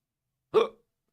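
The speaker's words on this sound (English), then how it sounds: "Oh crap! I got the hiccups." A single sharp hiccup from a man, close and clear, alone against silence.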